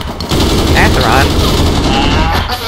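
Rapid automatic gunfire in an APB urban shootout, loud continuous bursts of shots filling the space with a dense rattling texture, with voices speaking over it.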